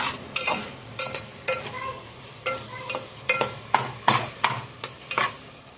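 Tomato and spinach are stirred and fried in a pan, with regular scraping strokes of a spatula over a soft sizzle, about a dozen rhythmic sweeps.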